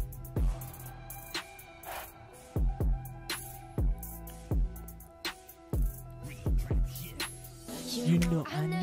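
Pop song plays with its bass track muted, leaving punchy drums, guitar and a singing voice over a steady beat at moderate level.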